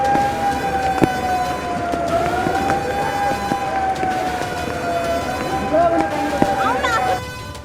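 A wailing flood danger warning siren sounds over a flooded Pune city in July, its rising and falling tone held steady beneath a news reporter's voice and background noise.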